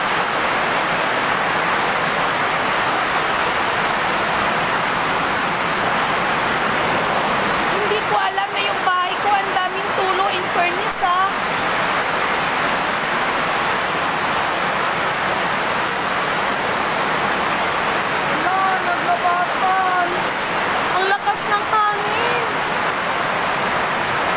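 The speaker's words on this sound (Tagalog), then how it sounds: "Hindi ako makakalabas kasi sobrang lakas ng ulan." Heavy rain pours down outside a house in a steady, dense hiss that holds at an even loudness throughout, with a voice speaking faintly underneath at moments.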